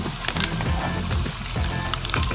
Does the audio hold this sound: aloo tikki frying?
yes